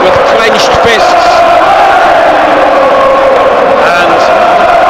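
A packed stadium crowd roars and cheers loudly and continuously after a Newcastle United penalty goal against Manchester City, with a commentator talking over the din.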